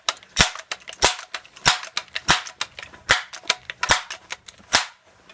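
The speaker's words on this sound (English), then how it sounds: "Now I am shooting lead pellets." Gamo Whisper Fusion Elite air rifle firing lead pellets outdoors, a steady run of sharp close cracks, about eight main shots spaced roughly two-thirds of a second apart, each followed by faint mechanical clicks.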